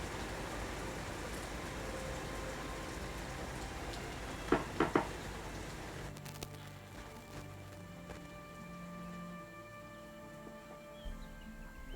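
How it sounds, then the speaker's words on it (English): Steady rain hiss fills the first half with a few sharp taps, then fades into quieter background with a faint low hum. "the key thing here is definitely the rain sound"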